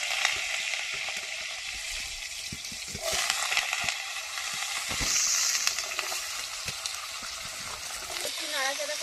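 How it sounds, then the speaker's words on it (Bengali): Potatoes sizzle in hot mustard oil with five-spice, a steady broad frying hiss broken by stirring scrapes, with a brief voice near the end. "আলু দিয়ে দেবো"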